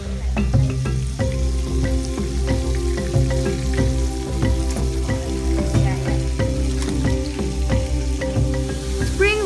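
Spring rolls frying in oil in a pot in a home kitchen, loud continuous sizzling and crackling with scattered pops and occasional stirring clatter.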